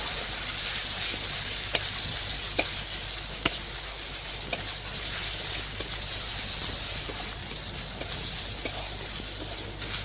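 Garlic, ginger, cumin, chili and spice paste sizzle with onions in a pan as they are stirred, a steady hiss broken by sharp scraping clicks from the spoon at irregular intervals.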